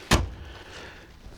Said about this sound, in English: I'm going to close the door now